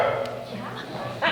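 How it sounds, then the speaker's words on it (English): A stray dog that wandered into a church meeting gives a few short yipping barks, fairly close, with voices talking underneath throughout. "joined by a stray dog who also happened to wander in"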